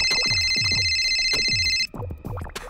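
A telephone rings with a bright, repeating electronic ringtone over a pulsing musical backdrop, then cuts off abruptly partway through.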